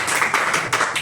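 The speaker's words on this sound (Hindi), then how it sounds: "ताली में कंजूसी मत कीजिए आप लोग।" An audience claps for students at a school class gathering, a short burst of steady hand clapping lasting about a second.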